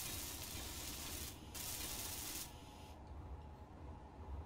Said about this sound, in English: So I'll just weld all that up.